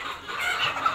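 Desi chickens clucking softly at close range, a short burst of a few quiet high clucks with no talking.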